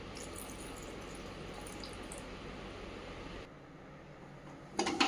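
Water is poured into a pressure cooker holding dal with cucumber pieces, tomato and green chillies. A steady splashing runs for a few seconds, then drops quieter and ends in a brief louder clatter. No one speaks.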